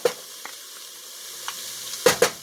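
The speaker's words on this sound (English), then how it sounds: "give that a stir just to kind of coat it a little bit" Sausage, dry couscous and tomato paste sizzle softly in a pan, with a steady frying hiss broken by a few scraping stirs and two sharper clinks of the utensil near the end.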